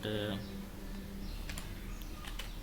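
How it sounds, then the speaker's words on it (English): Typing on a computer keyboard, soft scattered key clicks at close range with a low steady background hum. "just typing"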